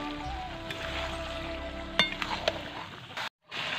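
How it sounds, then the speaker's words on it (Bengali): Stir-frying chicken legs cut into eight pieces with potatoes in a pan gives a steady, close sizzle and hiss, with a few sharp utensil clinks against the pan partway through and a short drop-out near the end. "তো এখন কষাচ্ছি, রান্না করছি, এই দেখো।"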